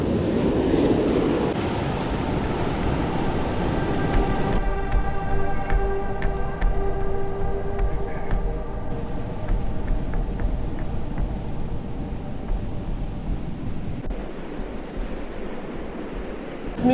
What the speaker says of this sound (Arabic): الله البحر ماشي زوين تبارك الله. البحر مخير.